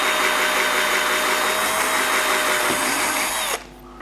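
A power drill whines at a steady, loud pitch while driving a screw through a shoe insole into the heel, then cuts off abruptly near the end, leaving near silence.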